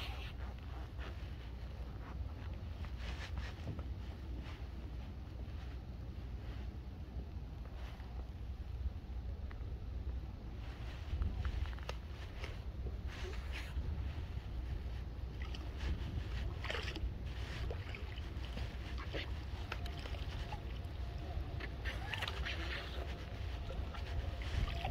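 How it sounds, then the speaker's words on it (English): Wind blowing steadily outdoors beside the water, a constant close rumble buffeting the microphone with gusts throughout, and no talk over it. "Oh, that wind's picking up, eh?"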